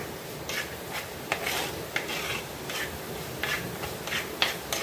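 Fish curry masala being sautéed in a clay pot, with soft repeated scraping and stirring strokes at a steady rhythm over a faint sizzle, close and fairly quiet, with no voices.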